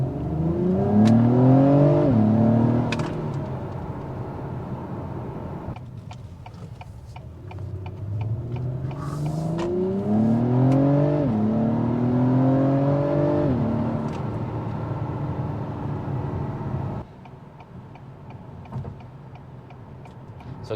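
A 2021 Acura TLX Type-S accelerates hard from inside the cabin, its engine note climbing through two distinct runs with quick, firm upshifts cutting each rise, then settling into a steady cruise hum.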